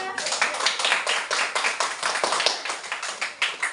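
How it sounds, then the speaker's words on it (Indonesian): A fifth-grade elementary school class bursts into lively group applause, with many hands clapping in a dense, uneven patter that stays loud and steady throughout. "tepuk tangan dulu buat semuanya"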